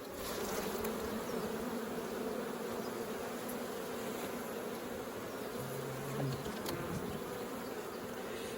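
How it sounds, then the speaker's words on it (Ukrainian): A dense swarm of honeybees hums steadily and close by, a constant layered buzz with occasional louder bees passing near. "струшую я бджолу"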